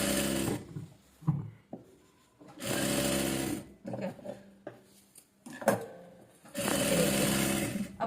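A sewing machine stitches lace onto a salwar in short bursts of rapid, close mechanical whirring, separated by brief pauses and quiet handling clicks.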